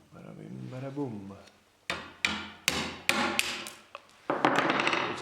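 Hammer blows knocking the blades off a Felder Hammer A3 41 combined planer: about six sharp metallic strikes at irregular intervals, preceded by a person talking and followed by a longer clattering ring.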